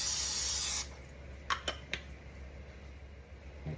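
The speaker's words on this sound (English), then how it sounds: "spray a baking dish with some non-stick cooking spray" Non-stick cooking spray hisses onto a baking dish in one steady close burst that stops abruptly, followed by a few light clinks of the dish.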